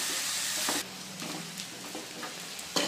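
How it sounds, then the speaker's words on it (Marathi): Onion sautés in a pan until browned for whole masoor bhaji, giving a loud sizzle that drops to a softer frying hiss with occasional stirring scrapes, and no voices. "लाल होईपर्यंत परतून घेते कांदा"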